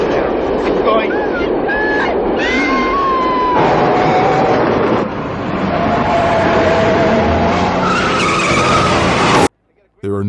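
Car chase from the 1971 film The French Connection, with tires squealing and skidding in pitched, wavering screeches over a loud, roaring engine and traffic clamour that cuts off abruptly at the end.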